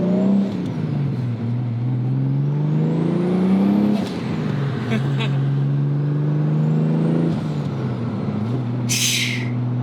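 A turbocharged car engine revs up and down in repeated rising and falling sweeps, loud and close, with a sharp hissing release near the end.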